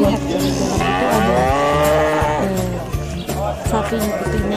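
Cattle at a busy livestock market in Turkey, with calves, bulls, cows and pregnant cows, low moos rising and falling repeatedly and loudly up close, amid continuous crowd bustle and talk.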